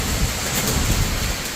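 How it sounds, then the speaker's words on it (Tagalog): Heavy typhoon rain in Batangas, Philippines pours in a dense, steady hiss with low rumbling underneath, loud and unbroken throughout. "Lakas ng ulan."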